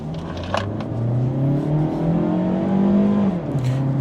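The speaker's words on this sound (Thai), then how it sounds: "มาลองเหยียบจงคันเร่งเลยครับมา" A 2020 Mazda CX-3 2.0 SP accelerates hard from inside the cabin, engine drone rising steadily in pitch, easing briefly near the end as the gear changes, then continuing.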